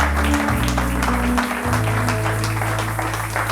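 A church congregation applauds at a Sunday service, a steady dense patter of clapping that runs the whole way through over low sustained music.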